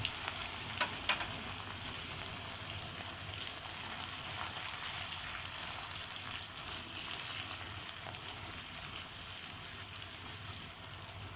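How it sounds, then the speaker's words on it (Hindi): Onions sizzle steadily in a pan with oil for baingan bharta, a continuous loud hiss running the whole time with a few brief crackles and no voices. "ये डाल दिया प्याज इसमें"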